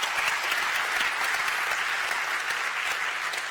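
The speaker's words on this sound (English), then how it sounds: "Let's give them a very warm round of applause," Dense, sustained applause from a large audience at the ITS European Congress 2016 plenary session in Glasgow, a continuous even wash of many hands clapping at once.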